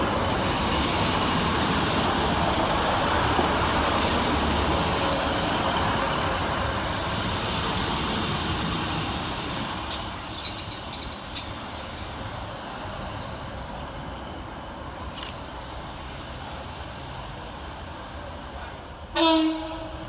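Two coupled Northern Class 156 diesel units run through Deansgate station on a Liverpool Lime Street to Manchester Oxford Road service, making a loud, steady rumble that eases halfway through, with brief clunks and a high squeal near the end.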